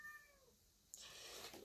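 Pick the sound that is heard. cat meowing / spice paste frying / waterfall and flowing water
cat meowing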